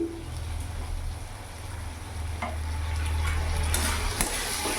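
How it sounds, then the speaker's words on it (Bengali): Kashmiri chili powder and spices stirred and frying in a pan for a Bengali bata fish curry with ridge gourd and potato, a steady close sizzle with scraping spoon strokes and faint clinks throughout, no talking. "কিছুক্ষণ নাড়াচাড়া করে একটু কষিয়ে নেব।"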